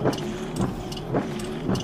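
Windshield wipers click in a steady rhythm, about two beats a second, over the low, constant hum of an idling car engine, with the car stopped at a railway crossing.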